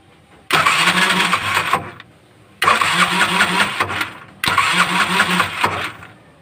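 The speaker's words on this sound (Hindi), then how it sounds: "तो इसका स्टार्टर मार रहे हैं, गाड़ी स्टार्ट नहीं हो रही है" Three cranking bursts from the starter of a Bajaj 205 auto rickshaw, each lasting over a second and separated by short pauses; the engine never catches. The sound is loud and close, with no talking.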